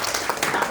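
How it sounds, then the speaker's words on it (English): An audience claps after a presentation on podcast production: a brief, moderately loud burst of dense applause. "Can we clap"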